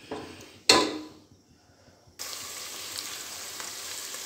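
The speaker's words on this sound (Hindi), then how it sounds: "ये हमारे फ्राई हो रहे हैं प्याज" Sliced onions hit a hot pan with a sharp burst of sizzling that eases off, then a steady, close frying hiss settles in and continues evenly, with no voices.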